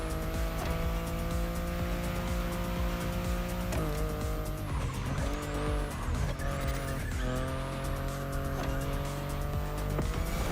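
BMW i8 hybrid sports car driven hard in the racing game The Crew Motorfest, a loud continuous engine drone shifting pitch with gear changes, tires squealing through corners throughout.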